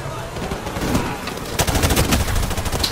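Gunfire in Call of Duty: Modern Warfare Remastered, mission War Pig with a tank nearby: dense, rapid bursts of shots that grow heavier partway through, loud and close amid a busy battle din.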